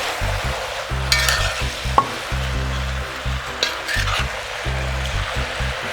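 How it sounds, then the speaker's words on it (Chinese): Oyster mushrooms and baby greens stir-fry in a wok on high heat: a continuous sizzle broken by rhythmic, regular scraping strokes of the spatula, with a couple of sharper clinks. "还是保持大火炒制。"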